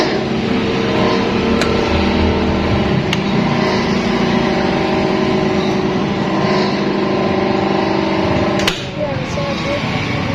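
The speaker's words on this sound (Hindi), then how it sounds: "अभी आप इस मोटर को रन करके आपको दिखाते हैं" Monoblock water pump motor running steadily under repair, a continuous hum with tonal whine lasting throughout, loud and close, with a brief dip near the end; voices murmur faintly beneath.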